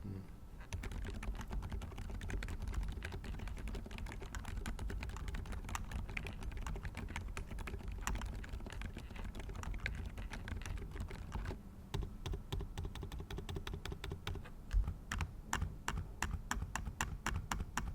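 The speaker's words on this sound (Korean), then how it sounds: "기계식 키보드를 사용하고 싶으셨는데 조용한 사무실이라 어려우셨다 하면 이 저소음 바나나 축을 선택하셔도 좋을 것 같아요" Fast, steady typing on a low-noise mechanical keyboard with silent banana switches: dense soft clicks and muted thocks run continuously, with a short pause midway, and no one speaks.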